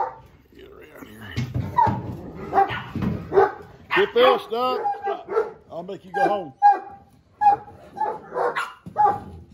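Several dogs bark, yip and whimper in short excited bursts close by, interleaved with a person talking to them in a home setting.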